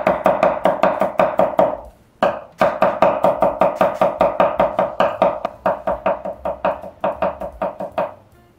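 A knife minces garlic on a cutting board with rapid, even chops in two close, loud runs separated by a brief pause.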